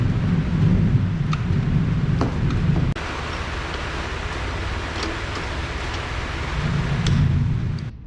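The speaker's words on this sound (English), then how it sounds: "it is raining very hard right now" Heavy rain pours steadily in a dense hiss, with low rumbling swells and a few sharp drips or taps scattered throughout.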